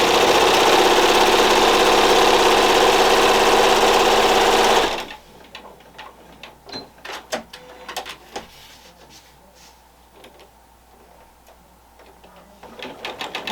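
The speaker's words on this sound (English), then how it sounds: "So now I'm sewing down the other" A sewing machine stitching diagonal lines a quarter inch apart on a red and white quilt, running loud and continuous for about five seconds, then stopping to quieter scattered clicks and handling taps.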